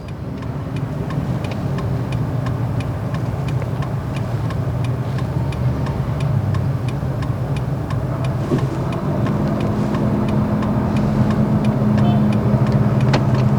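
Steady car engine and road noise in traffic, a vehicle failing to give way, heard as a continuous moderate rumble with faint regular ticking, likely a turn indicator, throughout.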